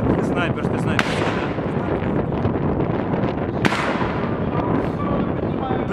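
Sniper rifle shots ring out in a crowded confrontation, two sharp cracks standing out about two and a half seconds apart over a constant roar of shouting and crowd noise.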